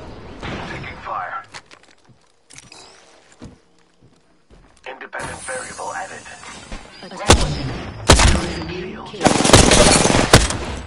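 Gunfire in a low-sensitivity shooter match: sharp, loud bursts of shots crackling in rapid clusters, with quieter gaps and footsteps between volleys, building to dense, sustained firing near the end.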